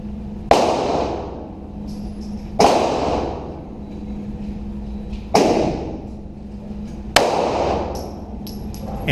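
Four sharp gunshots ring out at steady intervals of roughly two to three seconds during a target acquisition shooting drill, each a loud crack with a decaying tail over a low steady hum, with no talking.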